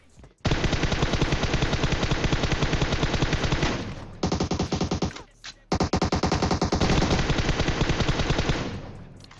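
Automatic gunfire in the mobile battle-royale game PUBG Mobile, long loud bursts of rapid shots with two brief pauses, close and dominant, with no talk over it.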